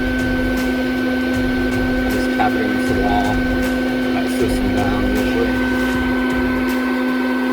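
A bee vacuum for collecting honey bees runs with a steady, loud electric drone and hum while a person talks over it nearby.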